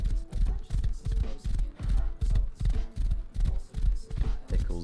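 Horse galloping in the survival game Rust, a steady rapid beat of heavy hoof thuds repeating about twice per second, close and loud throughout with no speech over it.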